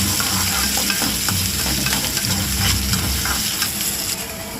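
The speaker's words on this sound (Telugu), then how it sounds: "అందులో ఒక ఉల్లిపాయ తరుగు వేసుకోవాలి. తరుగు వేసుకొని బాగా వేగించుకోవాలి." Chopped onion frying with dried chillies and curry leaves in a pan, a steady close sizzle with repeated scraping stirs throughout, easing slightly toward the end.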